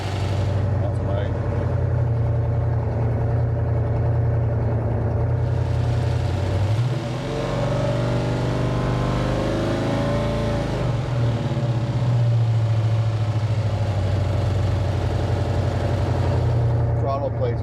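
A freshly built Pontiac 455 V8 idles roughly on its first start, apparently running on seven cylinders, with a steady low rumble and a brief dip partway through as the engine note wavers.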